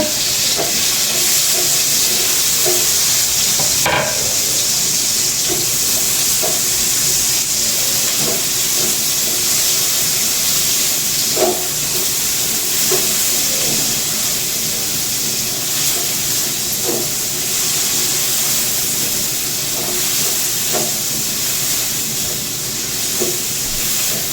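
Ginger and onion frying in a pan for sinuam na karpa, a steady loud sizzle and hiss running throughout with occasional sharper pops and crackles, no talk.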